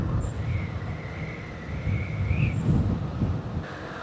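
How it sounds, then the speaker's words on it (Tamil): Heavy wind beside a road near Pollachi, India buffets the microphone with a continuous low rumble and gusting roar, with a faint whistling tone drifting above it. "காற்று வேறு அதிகமாக அடிக்குதுங்க, கேட்குமான்னு தெரியல."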